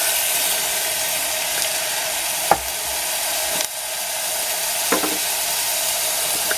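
Onions frying in a pan on a compact Trangia camping stove, a steady close sizzle with a few small clicks and knocks of stirring, no talk.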